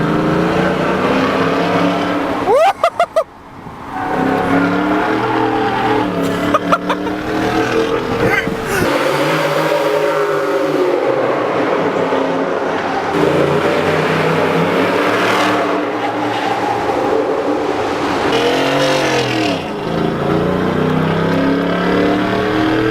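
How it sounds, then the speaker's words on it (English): A 2016 Ford F150 with its 5.0 V8 and Corsa exhaust roars loudly through an underpass, the deep revving note echoing off the walls as it builds and surges, with brief voices in between. "You roll down a window and you just hear that V8 roar and come to life."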